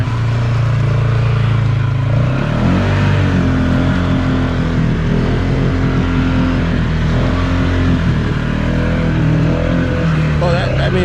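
A 2020 CFMoto Cforce 600 ATV revving through deep mud, loud continuous engine roar rising and falling, heard up close with people talking over it.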